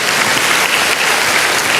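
A church congregation bursts into loud, sustained applause, a dense unbroken clatter of many hands close by for the whole stretch.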